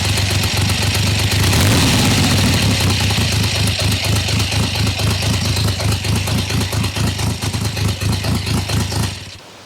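Engine of a Triumph T150 motorcycle running after electric start, a loud, close, rhythmic throbbing idle with fast regular pulses that holds steady and then cuts off at the end.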